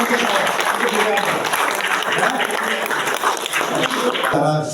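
An audience at a product workshop breaks into loud, sustained clapping close by, dense and continuous for several seconds with a few voices mixed into the applause.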